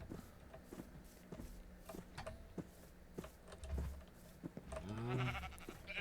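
Sheep bleating in the video game Minecraft: scattered footsteps and taps of animals moving, then a clear wavering bleat near the end, quiet and close.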